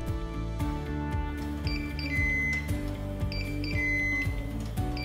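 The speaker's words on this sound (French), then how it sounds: "Le bip signifie que le préchauffage est terminé." A few short, high electronic beeps from an All-Clad smart multi-function grill signalling preheating is done, over a steady background of music.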